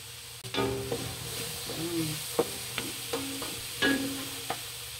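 Chinese kangkong (water spinach) frying in oil in a pan, stirred with close, repeated scraping strokes over a steady sizzle.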